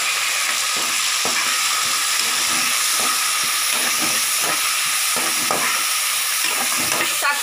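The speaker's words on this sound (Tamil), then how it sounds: "தக்காளி வதங்குற அளவுக்கு வதக்கிக்கலாம்" Onion, tomato and green chili sautéing in oil, a loud continuous sizzle broken by repeated scraping stirs of a spoon in the pan, with no voices.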